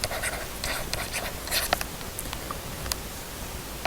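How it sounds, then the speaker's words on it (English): Chalk or marker scratching out an answer on a board during a physics lecture, a series of quick close strokes and taps with short pauses between them. "I'm just going to write that answer in."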